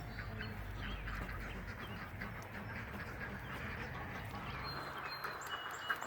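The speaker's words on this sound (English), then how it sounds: "The ducks are giving their opinion. Very vocal about it." Ducks quack steadily in a dense, continuous chorus at moderate distance, filling the whole stretch with overlapping calls and no clear pauses.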